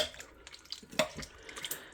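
A spoon stirs pepper into a hearty crockpot Firehouse stew, giving faint, soft clinks and scrapes scattered over about two seconds of quiet, with no talking.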